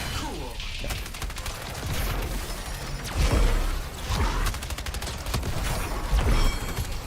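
Rapid bursts of video game explosions and gunfire-like blasts fire in quick clusters, loud and close, with whooshing effects and a busy mechanical clatter throughout.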